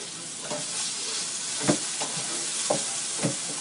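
Buffalo hot wings cook in hot sauce in a pan with a constant close sizzle, broken every half second or so by soft stirring scrapes, with no voices.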